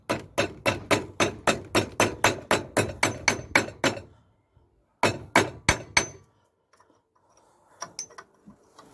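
Sharp hammer blows on a lock washer at a ball joint of an MG Metro Austin's suspension: a fast, steady run of about fourteen metallic strikes, a pause, then four more, with faint clinks after, close and loud.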